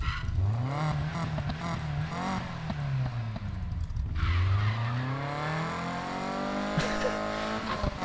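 Car engine revving with sweeping pitch rises and falls and tire squeal in the racing game Need for Speed Heat, loud and continuous with a brief sharp screech near the end, under soft background music.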